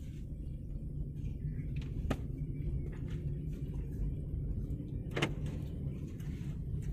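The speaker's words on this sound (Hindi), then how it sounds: "गाड़ी चलने लगी है" A car in second gear pulls away slowly during a driving lesson, its engine a steady low rumble throughout, with two brief clicks or knocks standing out against it and no one talking.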